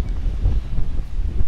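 Strong wind blows across an open outdoor sports field at a club rugby league match, buffeting the microphone in a loud, low, continuous roar with gusty surges.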